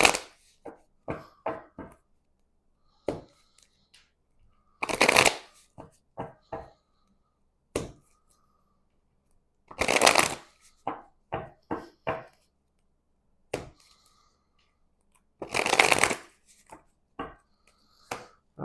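Tarot cards are shuffled in three loud riffling bursts, spaced a few seconds apart, among sharp taps and card snaps on a table in otherwise quiet surroundings.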